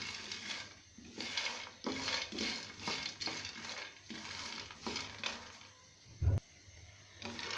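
Peanuts dry-roasting in a pan over medium-low heat are stirred with steady, repeated scraping strokes about every half second, with one sharp knock against the pan near the end.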